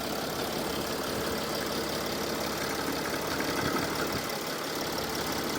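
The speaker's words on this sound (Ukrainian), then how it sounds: "Завівся гарно. Тихенько працює." 2007 Mercedes W211 car engine idling quietly just after starting, a steady soft low hum with faint knocking-like texture and no talk.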